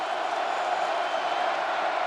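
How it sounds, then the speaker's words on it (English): A football stadium crowd at Iowa at Nebraska roars in a steady wash of cheering that holds at an even loud level throughout, without distinct voices standing out. "Crowd coming to life."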